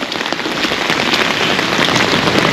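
Steady, loud rain falls on the seafront promenade in Lazarevskoye, Sochi, a dense, even hiss of drops hitting the pavement, unbroken and close throughout with no voices.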